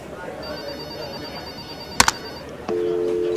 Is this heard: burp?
no